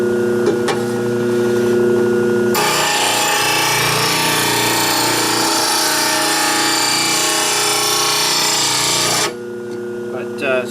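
A power tool grinds against hard steel chipper blades in one loud, steady whine that runs for several seconds, with quieter machine hum before and after.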